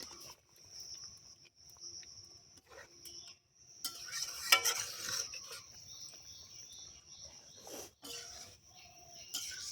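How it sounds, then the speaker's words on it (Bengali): Pea lentil dal cooked with fresh jute leaves, stirred in a pot in a village kitchen: soft, intermittent scraping and stirring strokes, closer and busier midway, over a faint, high insect-like drone. "এবার একটুখানি আমি একটুখানি চিনি দিয়ে নাড়া দিয়ে নামিয়ে ফেলব"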